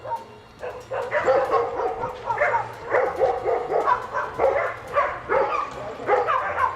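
A dog barks and yips repeatedly in quick bursts, fairly close, with a constant low hum underneath.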